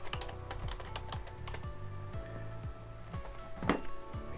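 A computer keyboard is typed on to enter login details and a password: rapid, close key clicks in quick bursts, with a few louder thunks and no speech.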